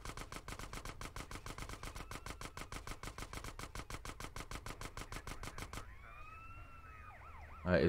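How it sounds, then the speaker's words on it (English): A police siren wails in Grand Theft Auto San Andreas on PC, a loud rapid pulsing yelp for nearly six seconds, then a slower rising and falling wail before a sudden loud burst at the end. "All I hear are cops."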